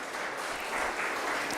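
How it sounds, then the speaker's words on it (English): An audience gives a sustained round of applause at a biotech skills-training programme session, with dense, steady clapping that holds at an even level throughout and no voices over it. "Let's hear a huge round of applause for him as well."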